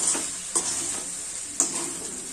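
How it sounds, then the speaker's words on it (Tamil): Ladies finger rice tossed with masala in a pan, a steady close sizzle under a few sharp scrapes of a spoon stirring through the grains, with no talk. "இதை நல்லா அப்படியே அந்த மசாலா எல்லாமே எல்லா அந்த ரைஸ் எல்லாம் மிக்ஸ் ஆகிற மாதிரி நல்லா கிண்டுங்க"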